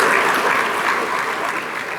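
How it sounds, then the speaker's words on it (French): Sustained applause from an audience at a French-language reforestation ceremony, honoring an award, a steady dense clapping that fills the room without pause. "Nous pouvons applaudir encore un peu plus fort pour ce prix."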